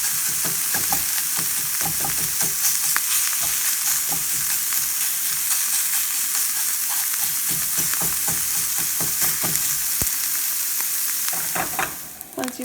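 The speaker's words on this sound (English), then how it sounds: "You want to cook your longaniza." Longaniza sausage with its casing removed cooks in a pan for a keto burrito, giving a loud, steady sizzle with crackling pops the whole time until it tapers off right at the end.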